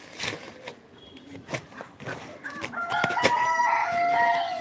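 A rooster and hens cluck in short, sharp bursts close by, building toward a longer, sustained call near the end.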